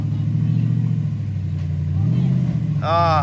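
A Jeep engine with a jumpy throttle idles and rumbles steadily while crawling slowly on an off-road trail, a low continuous drone with a slight rise near the end, under a voice.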